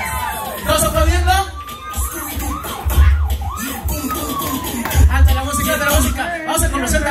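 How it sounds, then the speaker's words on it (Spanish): Women in a party crowd scream and cheer loudly at a baptism celebration show, with applause and crowd noise surging in waves throughout. "¡El grito de las mujeres! ¿Los hombres? ¿Los aplaudiendo?"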